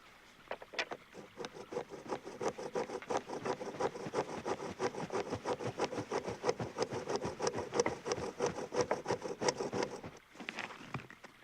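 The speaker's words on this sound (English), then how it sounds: "Watch how I make the holes for the pegs with a bow drill." A bow drill bores peg holes in wood while a kayak frame is built by hand. It makes a steady, rapid back-and-forth rubbing and scraping close by that runs continuously for about ten seconds and then stops.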